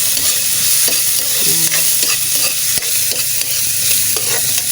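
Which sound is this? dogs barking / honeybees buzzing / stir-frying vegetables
stir-frying vegetables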